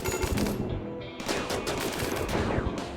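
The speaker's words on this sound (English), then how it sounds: "Let's activate the shields and the side turrets." Rapid turret gunfire in the colony-building video game RimWorld, with dense overlapping shots rattling continuously and loudly for the whole stretch, no talk over it.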